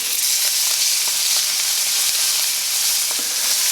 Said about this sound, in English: I'm going to put this top side that we just seasoned down. Give it just a tiny little press to make sure it's making really good contact with the pan.